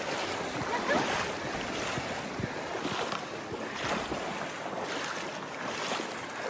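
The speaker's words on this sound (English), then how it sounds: "everyone's just walking through the water" People wade through river water in Zion Narrows, with continuous splashing and rushing water close by, a steady wash broken by soft sloshing surges and some wind buffeting, no talking.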